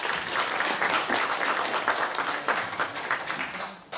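Audience applause at a civic gathering welcoming the next speaker, a brisk burst of many hands clapping with uneven surges that fades near the end, fairly close and without talk.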